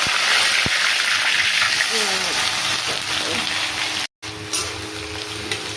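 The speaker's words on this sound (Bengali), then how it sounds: "দেখো পেঁয়াজটা ভালো করে ভেজে নেবো" Onion frying in oil in a wok alongside dried red chillies and bay leaves, a loud steady sizzle close up with a brief dropout near the end and faint voice sounds over it.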